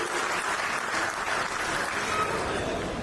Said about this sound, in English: Can we have a huge round of applause for that outstanding leadership?